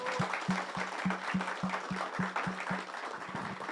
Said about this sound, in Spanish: hay que mandarle un fuerte aplauso